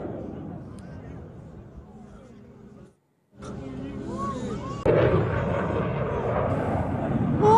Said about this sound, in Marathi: एअर शोच्या दरम्यानच हे तेजस लढाऊ विमान वेगानं खाली आलं।